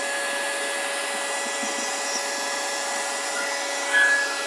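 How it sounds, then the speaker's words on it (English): An electric space heater draws about 3000 watts from a Redodo 12V 200Ah LiFePO4 lithium battery, giving a steady, even fan-like whir with a faint electrical hum, alone and unchanging throughout. "Now, you see the heater kicking out some heat."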